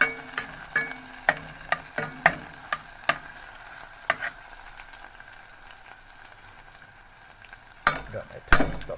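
Vegetables and thyme sauté in a pot under a low frying sizzle, while a spoon scrapes and taps the pot in a run of sharp, regular strokes. The strokes pause midway, then return in a few louder knocks at the end.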